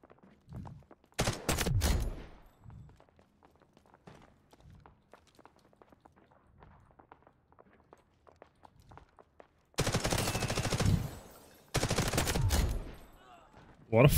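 Bursts of automatic rifle fire in the video game Delta Force Hawk Ops, one loud burst near the start and two longer sustained bursts near the end, with scattered footsteps and faint clicks in the quieter stretch between.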